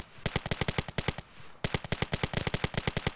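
Beretta 93R pistol firing on full auto in the video game Ravenfield, two rapid bursts of loud, crisp shots separated by a brief pause.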